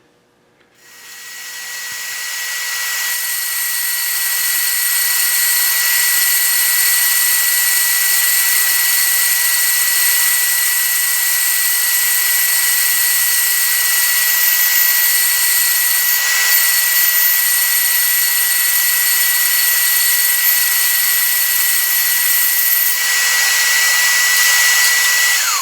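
A power saw resaws scrap wood, spinning up from quiet into a loud, steady high-pitched whine that holds for about twenty-five seconds with no talking.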